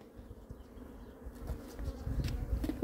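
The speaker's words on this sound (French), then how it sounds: "il me reste plus qu'à chasser les dernières abeilles" Honey bees buzz around an opened hive during varroa mite control work, starting as a soft, continuous hum that grows busier and louder toward the end.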